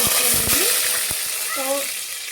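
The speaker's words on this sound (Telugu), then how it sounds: "ఆయిల్ వేసుకున్నాం ఫ్రెండ్స్ అల్లం వెల్లుల్లి పేస్ట్ వేయించుకున్నాం ఫ్రెండ్స్" Ginger garlic paste fries in hot oil for a fish curry, giving a steady broad sizzle with a few stirring knocks and scrapes near the start and brief tonal squeaks later.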